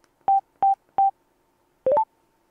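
Cardo Packtalk NEO motorcycle intercom gives three identical short beeps at an even pace, then a quick rising run of three tones, clean and close with nothing else heard.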